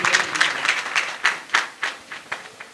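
Audience applause welcoming a guest at an award ceremony and Diwali gathering, a scattered crowd clapping in uneven bursts that gradually thin into a few separate rhythmic claps.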